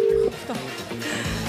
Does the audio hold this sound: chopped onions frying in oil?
no